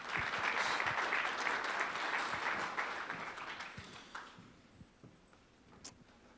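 Audience applause at a tech center startup summit, a dense burst of clapping from a crowd that swells at first, then thins and fades over several seconds into scattered claps.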